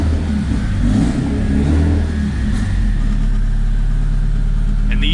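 A methanol-injected Honda Prelude H22 engine roars loudly and steadily on a dyno, pulling at high revs with a constant droning intake and exhaust note that never lets up.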